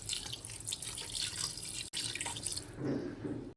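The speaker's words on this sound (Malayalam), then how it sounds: "ഇനി ഇതിലേക്ക് നമുക്ക് കുറച്ച് വെള്ളം ഒഴിച്ച് കൊടുക്കുക." Water splashes and trickles steadily into a container at close range, with a brief interruption partway through.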